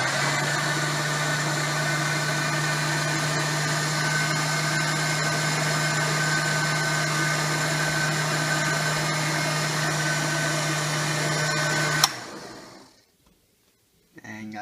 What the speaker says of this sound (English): we'll start the blender